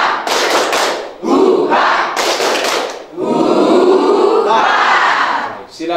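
A group of Catholic high school students at a spiritual retreat perform a rhythmic spirit clap, tepuk semangat, with bursts of loud patterned clapping and shouted chants in several repeated phrases.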